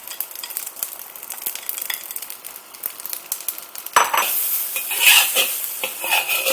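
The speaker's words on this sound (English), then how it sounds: "I'm just going to add my veggies, sauteed onions and garlic back in there." Sautéed vegetables, onions and garlic stirred in a first-use cast iron wok: a quiet sizzle with scraping utensil strokes, turning into a louder, busier frying hiss with clattering stirs partway through.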